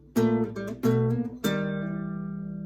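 A short fingerpicked guitar lick from a tune, using pinches and hammer-ons. Three plucked attacks in quick succession are followed by a final chord ringing out and slowly decaying, played alone and close.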